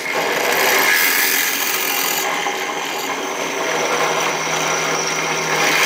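A pillar drill boring through metal tubes meant for hot-dip galvanizing, giving a steady, loud, grinding mechanical whir that runs unbroken for several seconds.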